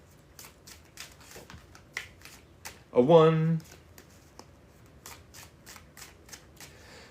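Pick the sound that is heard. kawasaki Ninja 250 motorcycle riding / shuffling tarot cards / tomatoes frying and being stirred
shuffling tarot cards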